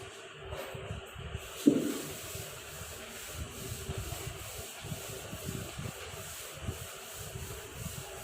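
Eraser or duster rubbing across a surface in a class-4 science lesson, a soft continuous scratchy rubbing at close range, with one brief louder bump near the start.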